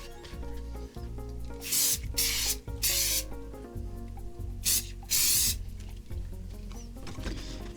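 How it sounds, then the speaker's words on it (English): Aerosol spray paint bursts onto the bottom of a power supply shroud, several loud hissing blasts of a second or so each, separated by pauses, over a steady musical background. "Now we can spray the bottom."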